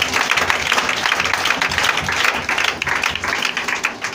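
A church congregation bursts into sustained applause during a worship service, a loud, dense wash of clapping that holds steady for about four seconds, with a few voices cheering underneath.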